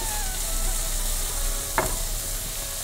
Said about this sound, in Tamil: வெங்காயம் கொஞ்சம் செவந்தா போதும்.